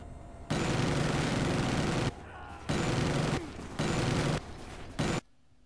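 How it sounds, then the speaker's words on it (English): Sentry gun firing in Call of Duty Black Ops, heard as loud sustained bursts of automatic gunfire in several long volleys separated by brief pauses, with no talk over it. "Another good sentry gun placement would be right where the blue dot is again, and it shoots up into the array."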